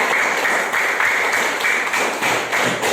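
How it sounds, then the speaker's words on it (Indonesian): Students give a classroom round of applause for a classmate, a loud, dense, close burst of many hands clapping that continues steadily without a break. "Beri tepuk tangan untuk Saskia"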